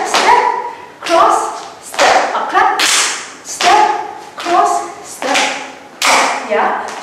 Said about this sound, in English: step, cross, step up, clap